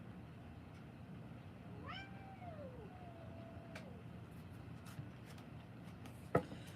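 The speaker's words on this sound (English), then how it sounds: "You're going to hear my cats in the background." Cats argue in the background with a couple of drawn-out, wavering meows rising over a steady hum from an open window, followed by a brief sharp knock near the end.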